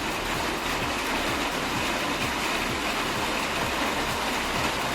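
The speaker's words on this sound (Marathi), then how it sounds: "पाऊस पडायला लागलाय आता" A dense, steady rushing wash of sound, like heavy rain pouring continuously, loud and unbroken, with no voices.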